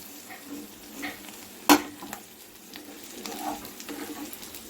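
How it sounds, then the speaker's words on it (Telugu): Semolina toasts in a pan with drumstick leaves for upma, giving a soft dry sizzle and scraping stir strokes, with one sharp clink of a utensil against the pan. "ఈ రవ్వ కూడా బాగా వేగాలి ఉప్మా రవ్వ కూడా వేగినట్టు తెలిసిద్దండి"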